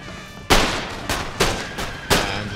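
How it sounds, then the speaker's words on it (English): A musket volley in the Empire: Total War game, a loud opening blast followed by several more crackling ragged volleys in quick succession. "And so now we should be in line to shoot onto their positions."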